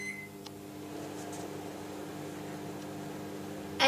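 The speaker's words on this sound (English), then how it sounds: "So I'll put that in the microwave in the little cup on high for 20 seconds" A microwave oven runs on high power, heating a small cup of soap-making additive; a steady, even mechanical hum with a constant fan drone lasts throughout, ending with a sharp click or beep at the close.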